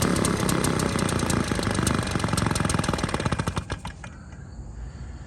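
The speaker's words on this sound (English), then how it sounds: "That's an engine smoking cigarettes." A small engine fitted with an air filter of cigarettes, fed through a baby bottle, runs loud and close with a fast, rattling pulse, then winds down and drops to a quieter idle near the end.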